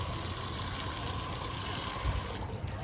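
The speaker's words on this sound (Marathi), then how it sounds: "म्हणून मी बाजूला ठेवलं होतं पाणी घालते" Water poured onto a dry potted plant in a home garden, a steady close gushing splash that runs throughout with no talk.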